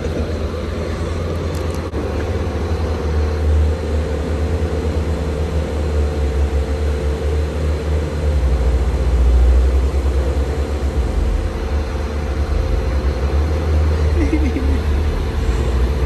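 A Subaru Legacy car drives around nearby, its engine giving a steady low rumble that swells somewhat toward the middle of the stretch and continues without pause.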